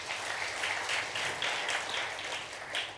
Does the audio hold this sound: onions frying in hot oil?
no